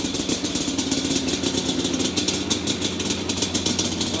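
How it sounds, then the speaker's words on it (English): A Yamaha Banshee ATV engine with chokes on, left sitting too long, runs at a steady idle with continuous two-stroke clatter and rumble, loud and close, without talk. "Just start it up. Still hit right."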